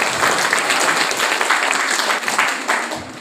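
An audience at a formal community gathering claps in steady, dense applause that holds for several seconds before tapering slightly.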